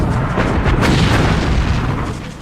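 The German battleship Bismarck fires a naval gun salvo at the aged battleship Rodney, a heavy rolling boom that fills the air and slowly fades, with no voices.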